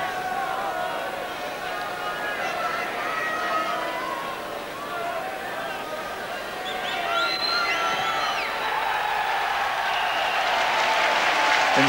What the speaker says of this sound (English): at last the English supporters have something to cheer about